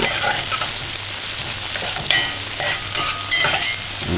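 Garlic sautéing in a pan for spaghetti and meatballs, a close, continuous sizzle with scraping stir sounds and one brief sharp clink partway through, no voices.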